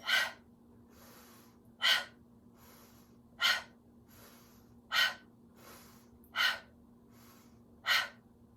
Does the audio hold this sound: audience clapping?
no